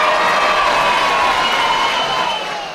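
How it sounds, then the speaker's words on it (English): A loud, sustained round of applause and cheering from a crowd, a continuous roar of clapping and shouts that holds steady for nearly three seconds before starting to fade. "round of applause for us"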